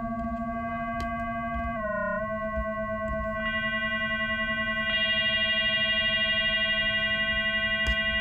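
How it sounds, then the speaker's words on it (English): A frequency-modulated synth tone, one sine wave modulating another, holds a steady harmonic-rich pitch that dips briefly, then brightens with added upper sidebands, heard alone and clearly. "all we're doing here is modulating one sine wave with another"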